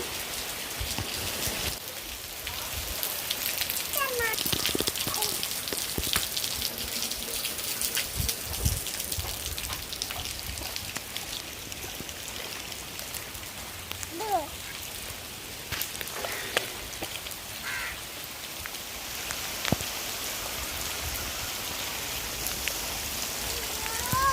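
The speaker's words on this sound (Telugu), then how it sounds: "వర్షం తెగ పడుతుంది" Heavy rain pours down steadily, a dense hiss of drops drumming on surfaces with scattered sharper splashes throughout.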